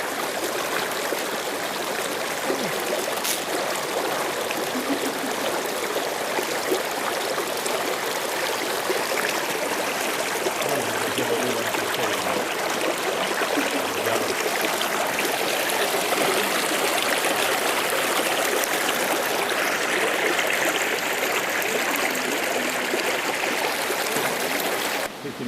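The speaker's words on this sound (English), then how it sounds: "And it's another view of the waterfall." Steady rushing water from a waterfall on Nuku Hiva in the Marquesas, a continuous broad wash holding at an even level throughout with no voices.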